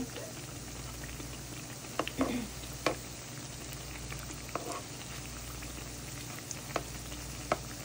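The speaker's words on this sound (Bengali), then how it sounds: "আপনারা পিঠাগুলো মিডিয়াম হিটেই রান্না করবেন" Pithas made with coconut, milk, egg and date-palm syrup cooking in a pan over medium heat, a faint, even bubbling sizzle with a few scattered light pops and taps, quiet and steady, without speech.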